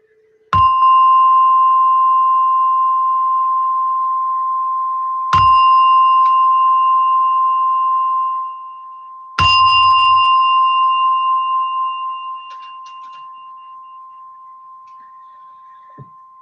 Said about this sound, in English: as you hear the gong slowly coming out from practice